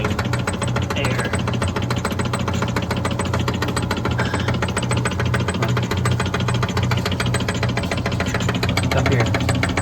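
A Stoelting soft serve machine's pump runs steadily, pulling only air through a vacuum leak, giving a loud, continuous mechanical drone with a rapid knocking pulse that never lets up.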